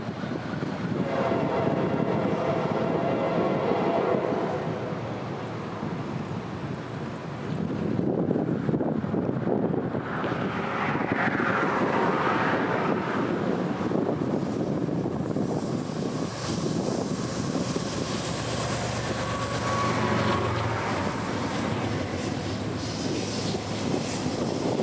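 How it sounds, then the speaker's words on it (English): A freight train led by an SD70 Mace locomotive rounds a bend and crosses over at a junction on the S-Line, a broad rumbling roar with wind buffeting the microphone, swelling and shifting over the length. "his SD70 Mace leader would round the bend into view, crossing over at the junction"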